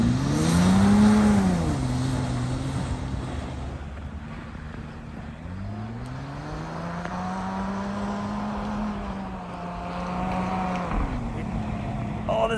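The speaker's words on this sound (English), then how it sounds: "I am scraping a little bit on the snow here." An Audi Q7 with Quattro all-wheel drive and snow tires pushes through deep snow, its engine droning and rising in pitch as it claws forward, loud and close, with a steady scraping rush beneath.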